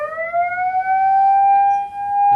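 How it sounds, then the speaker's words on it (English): A fire siren tone from a school's central alarm system sounds loud and alone, a steady rising wail that holds at a high pitch for the whole stretch. "is a fire siren."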